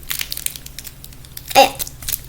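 Fidget toy made of plastic Jolly Rancher wrappers being squeezed, close crisp crinkles in scattered bursts with one louder crunch, no talk.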